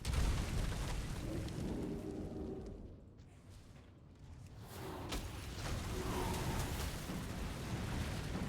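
Demolisher siege engines firing in World of Warcraft's Siege of Orgrimmar raid, a dense rolling barrage of booms and bursts with a brief lull in the middle before the heavy explosive rumble resumes.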